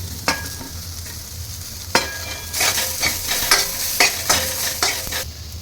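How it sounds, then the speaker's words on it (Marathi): Chopped onion frying in hot oil in a pan, a steady sizzle broken by several scraping stirs of a spatula, close and fairly loud with no talking. "कांद्याला तांबूस लालसर कलर येऊपर्यंत चांगला तेलामध्ये परतून घ्यायचा"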